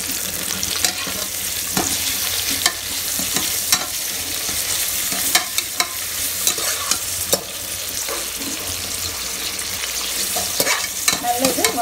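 Onions sauté on high flame in a pan, with a loud, continuous sizzle and frequent stirring clicks and scrapes that keep up throughout.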